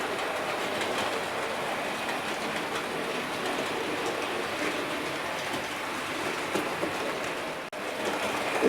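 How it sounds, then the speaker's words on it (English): Three Bachmann model train sets, including City of Birmingham and military manoeuvres locomotives, trundle around track with insulfrog points, giving a steady broadband rolling rumble and faint clickety-clack throughout, fairly close and continuous, with no talk. "You're going to get all three train sets as they trundle around"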